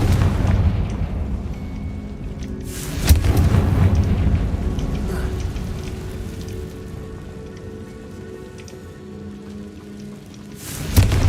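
A Confringo spell blast in the Hogwarts Legacy video game erupts as a loud, broadband booming burst, followed by rumbling debris and a second sharp blast near the end.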